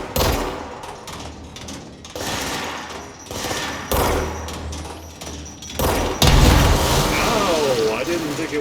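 Loud explosion from the action game Control, a broad booming burst that swells late and rolls on amid busy game sounds of gunfire-like cracks and thuds.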